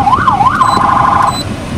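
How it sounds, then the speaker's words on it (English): An electronic emergency vehicle siren on a 2014 Dodge Ram sweeps up and down, then holds a steady rapid yelping tone before cutting off, loud and close. "The other thing is, I can do the siren tones."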